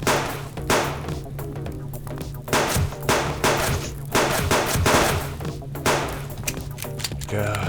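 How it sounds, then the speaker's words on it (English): Repeated 9mm pistol gunfire in the survival video game Subsistence, bursts of shots spread across the clip over a steady low game hum, with someone speaking briefly between them. "Trying to get better shot with this 9mm because I'm low on ammo, man"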